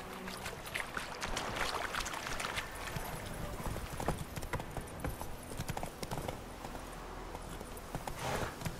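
Horse hooves in The Witcher 3 clip-clop in a steady rhythm at a brisk pace. The hoofbeats are clear and continuous, with a faint background ambience.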